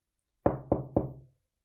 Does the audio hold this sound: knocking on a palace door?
yes